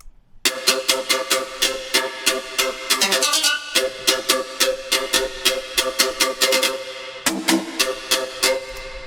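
A trap lead synth drenched in effects plays a fast, bright staccato pattern of repeated stabs with a short stuttering roll, loud and up front, with no voices.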